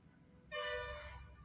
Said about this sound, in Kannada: ಓಹೋ ಹಾರ್ನ್ ಮಾಡೋದಲ್ಲ.